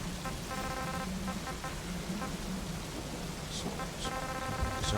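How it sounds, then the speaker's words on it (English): Steady rain in the stealth game Metal Gear Solid V: The Phantom Pain, a dense hiss that fills the whole clip, with faint in-game tones and a low rumble underneath. "It's raining,"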